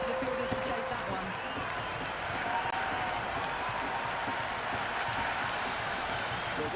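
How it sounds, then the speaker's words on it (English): Crowd at a cricket ground during an India vs South Africa T20 match, a steady wash of cheering and general noise with faint clapping, continuous and fairly distant, likely with commentary voices running over it. "the crowd have joined the party. It's pretty noisy at the ground"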